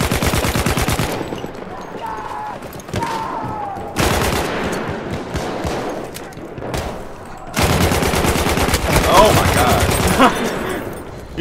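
Rapid bursts of automatic gunfire and sharp single shots in Battlefield 1 come in loud, dense volleys separated by short quieter gaps, with a player's voice speaking in places.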